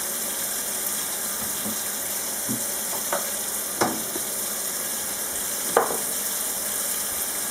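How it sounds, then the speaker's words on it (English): Dye liquid is poured over fabric to soak it, making a continuous watery hiss with a few soft splashes and drips. "I'm just going to douse it and let it soak a little bit"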